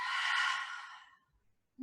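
A single deep exhale during a yoga breathing exercise, a soft, breathy sigh that fades out over about a second, followed by near silence.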